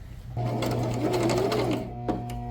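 A sewing machine runs in one continuous burst of stitching, sewing a pocket onto shirt fabric, loud and close, with a low motor hum and rapid needle chatter before it slows and a brief click follows.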